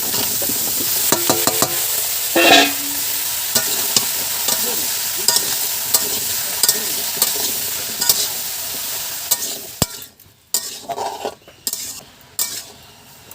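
Bottle gourd pieces are tipped into a pan of fried prawns and stirred, producing a steady oily sizzle with repeated scrapes and clinks of a spatula against the pan, close and clear, ending in a few quieter stirs.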